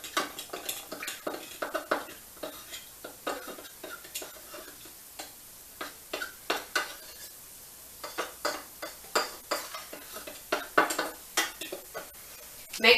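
Rice and minced garlic stirred in a pan, with a quick irregular run of spoon scrapes and taps against the metal over a faint sizzle, close and fairly loud, no talking.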